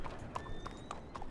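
Quick clip-clop of horse hooves on a hard surface in Red Dead Online, a steady trotting rhythm under faint background noise, with a brief neigh-like tone.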